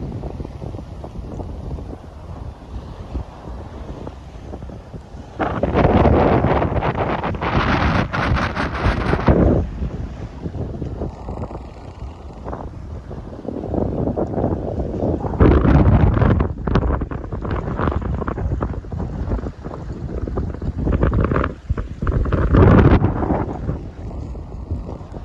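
Wind roars steadily across the microphone aboard a sailboat heading along the French coast toward Les Sables d'Olonne in about 13 knots of true wind, rising and falling in strong gusts with water rushing beneath.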